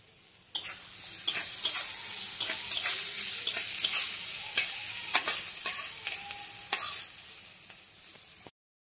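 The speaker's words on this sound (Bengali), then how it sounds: "পেঁয়াজটাকে একটু লাল করে ভেজে নেবো।" Chopped onions frying in oil in a pan for an eggplant curry, a steady close sizzle broken by frequent stirring scrapes and clacks, no talking.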